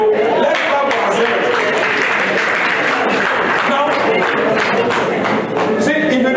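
A church congregation claps together during a Fathers' Day service, loud, steady clapping filling the room without a break.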